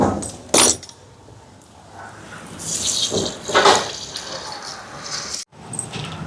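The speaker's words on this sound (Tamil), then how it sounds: "அரிசியை கழுவி எடுப்போம்." Rice being washed in water while cooking a large almsgiving lunch, with running tap water, splashing and swishing in a metal vessel, a sharp clatter near the start and brief pauses.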